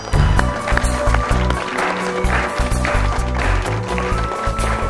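A studio audience in a Prathana TV talk show applauds loudly and continuously to welcome a guest. The dense clapping is steady throughout, and a voice murmurs faintly beneath it.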